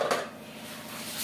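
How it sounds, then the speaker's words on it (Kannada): The lid of a pressure cooker holding pea and potato gravy is opened after its steam has been released: a brief metallic clatter at the start, then a faint airy hiss. "ಕುಕ್ಕರ್ ಕ್ಯಾಪ್ ಓಪನ್ ಮಾಡ್ತಾ ಇದ್ದೀನಿ."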